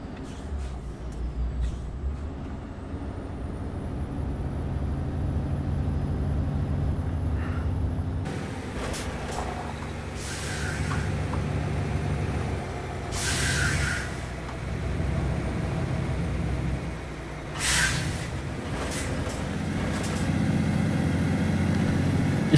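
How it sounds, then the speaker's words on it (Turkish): A Volvo VNL truck engine in American Truck Simulator, driven between Reno and Redding, rumbles low and steady throughout, with a few brief hissing bursts and mechanical clatter over the drone. "İşte bu ses arkadaşlar, tam Amerikan kamyonu bak."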